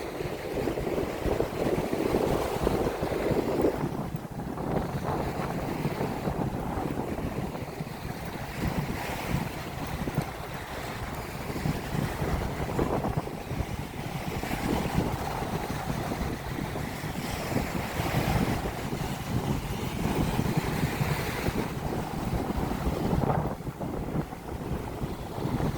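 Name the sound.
wind on the beach at Diamond Head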